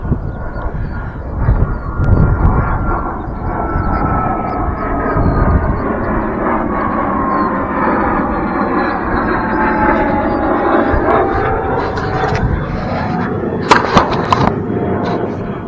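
A jet aircraft passes overhead near an island airport, a broad, steady roar that swells and sweeps downward in pitch as it goes by, loud and continuous for the whole stretch with no talk over it.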